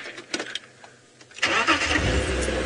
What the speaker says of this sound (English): is when you start the car